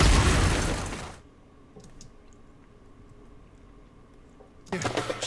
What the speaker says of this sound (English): Maybe before that rubble sound.